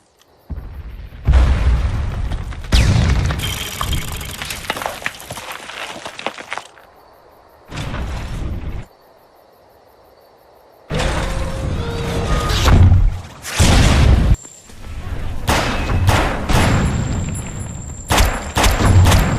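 Loud explosions in the sci-fi shooter Defiance 2025 come as a string of heavy booming bursts, each rumbling and crackling for a second or more, separated by brief quiet gaps.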